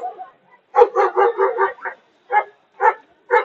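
A dog barks repeatedly at a company family day dog show, a quick run of close, loud barks followed by a few spaced single barks.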